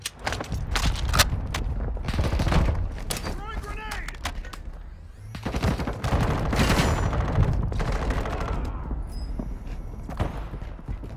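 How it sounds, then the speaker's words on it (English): Gunfire in Call of Duty Modern Warfare II, scattered volleys of shots near and far with sharp cracks and rattling bursts, mixed with game noise and a person talking over it. "Yeah, somebody shooting at me."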